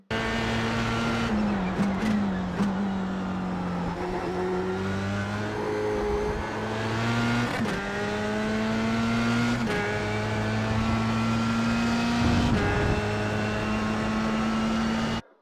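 Formula Sprint race car engine lapping Silverstone International in the sim racing game iRacing, a loud sustained whine rising through the gears with repeated upshifts and downshifts, steady and close throughout.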